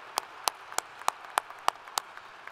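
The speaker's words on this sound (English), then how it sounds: "Please join me in a round of applause." Sparse clapping from a few people at a university commencement, about eight distinct claps at a steady, slightly slow rhythm, fairly quiet with no voices.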